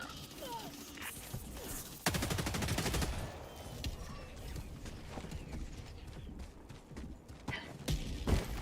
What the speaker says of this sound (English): Orbital barrage incoming.